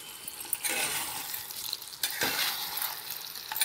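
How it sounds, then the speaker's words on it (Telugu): A ladle turns pumpkin curry gently in a pan, soft scraping strokes over a faint sizzle, quiet and close with a few distinct stirring passes. "సరి, పై పైన నెమ్మదిగా కలుపుకోవాలండి, లేకపోతే ముక్కలన్నీ విడిపోతాయి"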